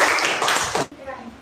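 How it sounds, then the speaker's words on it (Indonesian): An Indonesian sixth-grade class gives a brief burst of applause mixed with children's voices, loud for under a second before dropping to a quiet room. "tepuk tangan untuk kita semua."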